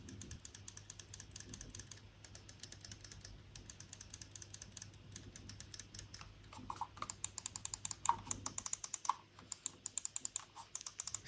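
Computer mouse buttons on a Logitech G Pro X Superlight and a Finalmouse Starlight 12, both with Omron 20M switches, click in quick, sharp bursts, faint and close, with scroll-wheel ticking and brief pauses between runs.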